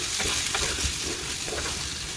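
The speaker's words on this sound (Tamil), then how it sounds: "இப்போ நல்லா கழுகி வச்ச ஈரலை நாங்கள் இதுக்கு போட்டுக்கொள்வோம். போட்டு நல்லா மிக்ஸ் பண்ணிக்கொள்வோம்" Washed beef liver stirred into a hot curry pan, a continuous close sizzle of frying with scraping and stirring throughout and no talking.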